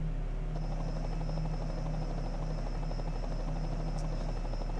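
Helicopter at a stock car race at the T-Swift Superdome gives a steady, droning rotor and engine hum that continues unbroken throughout, with no talk.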